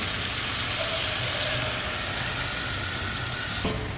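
Chicken with potato and raw onion sizzles and fries in a pan after a little water is added, a steady close hiss with faint stirring scrapes throughout.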